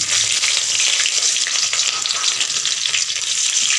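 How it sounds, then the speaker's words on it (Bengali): Bay leaf, dried red chili and chopped onion crackle in hot cooking oil, making a loud, dense, steady sizzle that fills the whole stretch without pause. "পরিমাণ মতো তেল দিয়ে দিলাম, তেজপাতা দিয়ে দিলাম, শুকনো লঙ্কা দিয়ে দিলাম, পেঁয়াজ কুচি দিয়ে দিব"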